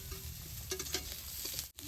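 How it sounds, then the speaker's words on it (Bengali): Garlic and onion frying in a little oil, giving a close, steady sizzle with brief stirring scrapes and a short pause near the end. "রসুন পেঁয়াজ ভাজবার নিছি"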